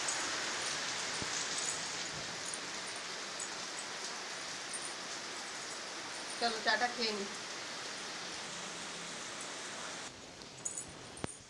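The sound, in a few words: monsoon rain falling in a village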